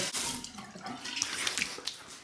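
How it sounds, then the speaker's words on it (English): Cold tap water running into a sink while rinsing after a shave, a soft splashing flow with a few small drips and splatters, quiet and close, no talking. "Let's do a final rinse with cold water."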